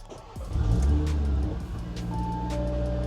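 A 2022-onward 8Y Audi RS3 engine with a newly installed ECS aftermarket exhaust in quiet mode cranks and fires up with a deep, throaty rumble, then settles into a steady low idle with a faint whine rising late.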